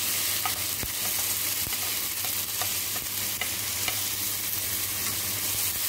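Onions and tomatoes sautéing in oil with tempered cumin seeds make a constant, even hiss close up, dotted with light spatula clicks and scrapes at irregular intervals.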